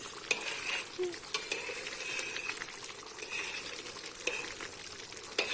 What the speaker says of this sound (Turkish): Soğan kavrulup, kıyma kavrulup salçayla suyla pişiriliyor.